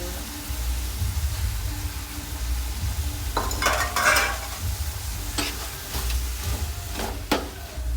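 Ginger garlic paste fries in a pan and is stirred with a spoon, a steady sizzle broken by several sharp scraping and clinking strokes close by.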